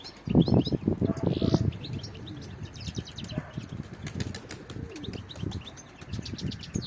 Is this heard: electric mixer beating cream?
no